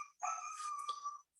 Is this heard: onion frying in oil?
no